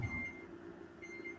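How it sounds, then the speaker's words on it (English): A heat press pipes a thin steady tone during its 10-second countdown for applying heat transfer vinyl, in two faint stretches over a low hum. "Beeps to let you know it's counting down."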